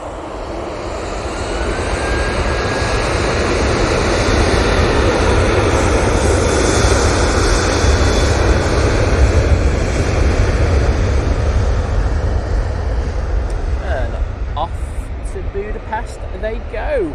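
Airliner taking off at Manchester Airport, its engines building to a loud, sustained roar that dominates and then slowly eases as it climbs away.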